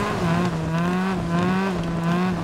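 A rally car in WRC Generations brakes and slides, the engine droning steadily with a tonal whine while tires scrub and skid across the surface, close and continuous.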